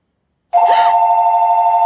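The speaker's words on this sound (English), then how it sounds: "There are so many phone ringing jump scares in Smile 1." A telephone suddenly rings as a horror film jump scare, a loud sharp tone bursting out of silence and then holding steady and close.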